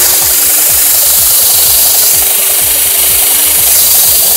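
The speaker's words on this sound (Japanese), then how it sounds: "この機械でですね、まあここベルトになってますんで、ベルトが回ってるところで、こう当てながら当てながら、このソケットをきれいに直していきたいと思います" A belt sanding machine grinds the socket of a Fourteen DJ-6 golf club during assembly. The contact makes a loud, continuous rasping whir with a steady, repeating low pulse and no voices.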